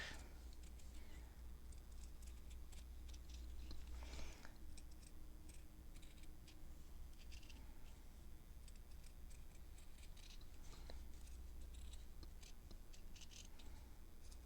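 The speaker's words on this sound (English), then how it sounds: "I need a smaller scissors, pair of scissors for these, but it will just have to work" Scissors snip through fabric for a junk journal cover in a quiet room, with soft, irregular clicks and scratchy cuts scattered throughout, faint against a low steady background hum.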